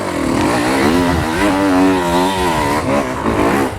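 An enduro motorcycle engine held on throttle while climbing a hill, a loud, sustained buzzing drone that rises and falls in pitch as the revs change.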